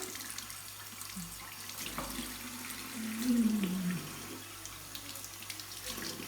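Tap water running from a faucet into a sink as a toothbrush is rinsed, a faint steady trickle with a brief louder gush midway.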